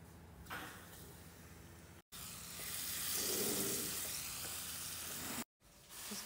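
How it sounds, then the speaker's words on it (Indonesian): Flour-coated marinated chicken pieces dropped into hot oil, a loud bright sizzle swelling up and holding steady, with a quieter frying hiss before and after brief cuts. "Jadi kayak gini kita goreng."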